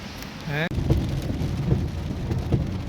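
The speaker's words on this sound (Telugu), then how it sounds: "ఫుల్ వర్షం కువైట్లో" Heavy rain pours down in Kuwait, a dense, steady roar of drops hitting surfaces throughout, with a brief whistle-like tone near the start.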